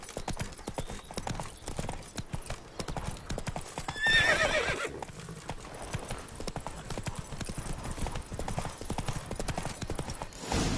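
Roach the horse in The Witcher 3 trots with steady rhythmic hoof clops, and a loud whinny rises midway. Some speech can be heard faintly behind.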